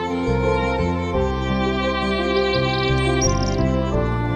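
Birds chirp and tweet steadily in a mangrove forest at Pekalongan, Indonesia, over a continuous tonal musical background, with brief high calls standing out near the middle and end.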